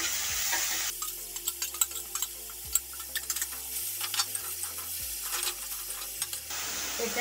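Grated beetroot stir-frying in a hot wok, with a soft steady sizzle under repeated scraping and stirring strokes, punctuated by sharper clinks of the utensil against the pan, close and alone.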